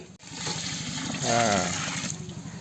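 Water pours briefly into a rice pot with a rushing, splashing sound over a low background hum; a voice seems faintly present.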